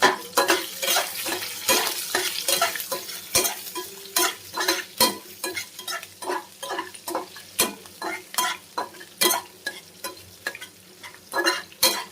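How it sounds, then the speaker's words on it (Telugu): Onions sizzling and frying in a pan while a spoon stirs them in quick, regular scraping strokes, close and loud with no talking. "ఇలా ఫ్రై చేసుకోవాలన్నమాట"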